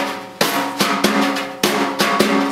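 Wire brushes on a jazz snare drum play the cheat pattern, with strokes alternating between right and left hands. Crisp slaps each trail into a brief swish, in an uneven swung rhythm heard close and alone.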